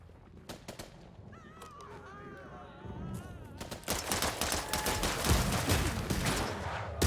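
Rapid bursts of gunfire in a video game where a hunting rifle is used, the shots coming in dense volleys that build louder toward the end, with a honking, goose-like call early on.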